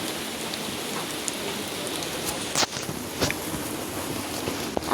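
Steady rain patters down continuously, a dense wash of drops hitting surfaces, with a few sharper splashes standing out now and then.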